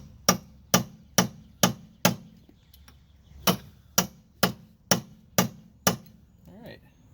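A hammer strikes the metal tab on a 2006 Mazda 6 rear wheel hub nut, bending it. The blows are sharp and close, evenly spaced, in two runs of about five and six strikes with a brief pause between them.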